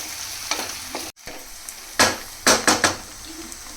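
Ginger garlic paste frying in hot oil, a steady close sizzle broken by several sharp scraping stirs of the spoon against the pan, with one brief dropout near the middle.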